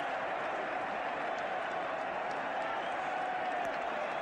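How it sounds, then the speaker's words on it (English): A football crowd at Upton Park during an FA Cup fifth round match, a distant, steady roar of many voices mixing boos and cheers, dense and continuous throughout. "the crowd are booing and some of them are cheering, and a lot of them are surprised"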